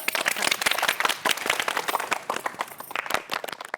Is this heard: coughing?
no